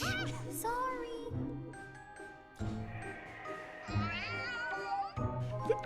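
Pitched cat meows follow one another in a tune, as in a cat piano, with tinkling chimes mixed in, moderately loud and continuous without talk.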